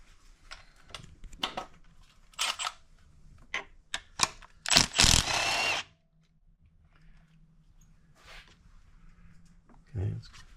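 Ratchet wrench loosening a 10 mm bolt during a car intake install, with rapid clicking bursts and a short continuous ratcheting run up close, followed by quiet and a brief voice.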